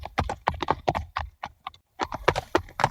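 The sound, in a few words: horses clip-clopping as thieves arrive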